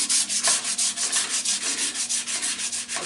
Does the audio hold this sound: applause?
no